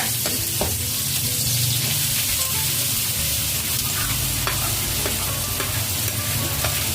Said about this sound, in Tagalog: Sunod natin yung sinap natin na carrots at patatas.